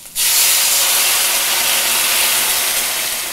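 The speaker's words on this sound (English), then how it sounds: "Just let that white wine boil away and concentrate down, and let the turnips cook." White wine boiling hard in a hot pan with turnips, a loud steady steam-like hiss that starts abruptly and holds strong, fading only slightly toward the end, with no talking.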